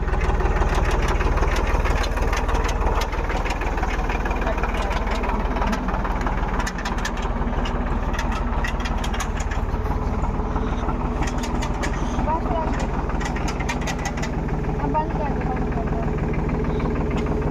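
A tractor engine runs in a Chhattisgarh village, giving a steady, close, low rumbling drone that continues unbroken for the whole stretch, with faint voices mixed in.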